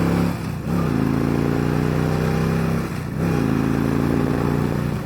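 A 2013 Victory Cross Country motorcycle engine runs loud and steady with a deep idle rumble, briefly dipping twice as the revs drop and recover, with no talking over it.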